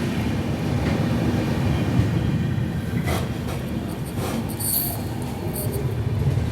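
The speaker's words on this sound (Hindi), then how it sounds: "रात के 1 बजे हमारी ट्रेन पहुंची है नवद्वीप धाम" A passenger train pulls into Nabadwip Dham station, platform 3 in the Howrah division, at about 1 a.m., with a steady rumble of rolling wheels and occasional squeals and rattles throughout, close and fairly loud.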